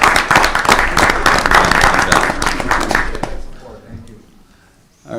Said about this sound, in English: how about we give the man a round of applause?